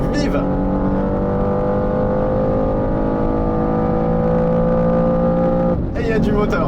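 A BMW M2 G87 with a 460-horsepower engine accelerates hard on a race track, its loud engine note rising steadily through a long pull, with a brief gear-change break near the end.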